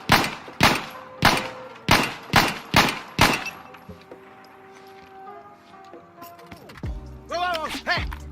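Pistol shots from an M9 fired at targets in Insurgency: Sandstorm, six loud, sharp reports in a steady rhythm followed by a pause with faint mechanical handling, then further clattering noises near the end.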